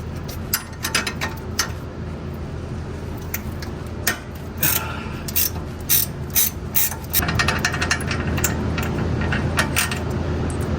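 A ratchet wrench loosens the shock absorber nut on an SN95 Mustang, giving a steady stream of rapid metallic clicks in repeated bursts, loud and close over a low background hum.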